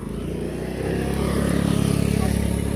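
A motorbike passes along a road near a temple village, its engine hum building and swelling into a loud, close rumble over a few seconds.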